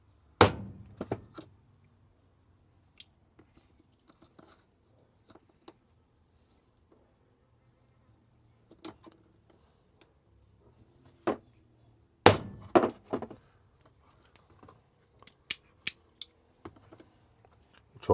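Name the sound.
hammer striking brass punch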